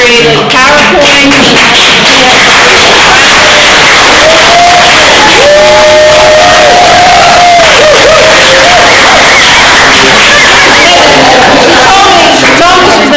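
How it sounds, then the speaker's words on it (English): Loud crowd applause and cheering at a real estate listings seminar, a continuous roar of clapping with whoops and shouted voices, and a prolonged yell rising over the noise. "We have to give Chris a huge round of applause because she has created PowerPoint."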